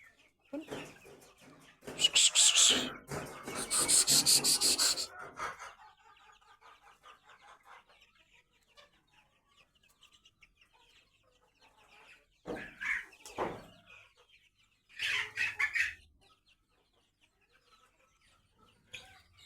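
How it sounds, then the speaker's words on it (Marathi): Chickens, hens and roosters on a goat farm cluck loudly in close bursts, a few squawking outbursts followed by quieter pauses and then shorter clucking flurries. "ह्याच्यातल्या किती कोंबड्या आणि किती कोंबडे कोण असतो"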